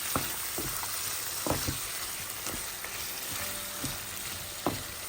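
Mutton with tomatoes frying in oil in a pan for mutton ghee roast, a continuous close sizzle broken by scattered scraping knocks of a spoon as it is stirred.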